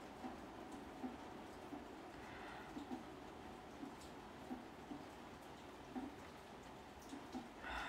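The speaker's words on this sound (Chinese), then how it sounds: "对，我们这边下雨了， 所以有那个下雨的声音。" Steady rain falls outdoors at night, a faint, even hiss of drops on surfaces with soft irregular patters throughout and no talking.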